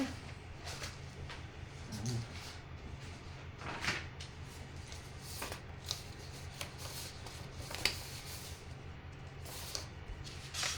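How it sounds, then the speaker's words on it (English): Papers shuffled and leafed through on a desk, a steady series of rustles and soft slaps over a constant low hum, close and moderately quiet, with no talking. "shuffle through all my papers here"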